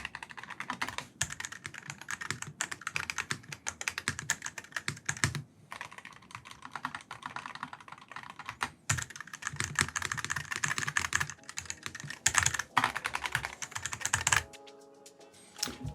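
Fingers type on a Wooting 60HE keyboard fitted with Lamzu Pro magnetic switches, producing rapid, close clacking keystrokes in uneven bursts with a few short pauses, ending in a brief trailing clatter.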